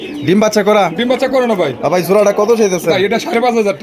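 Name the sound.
pair of black fancy pigeons cooing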